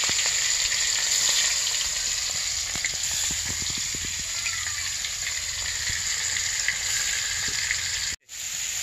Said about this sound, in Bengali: এটার মধ্যে মাছগুলো এখন মশলা মেখে নেই, ভালো করে ভেজে নিই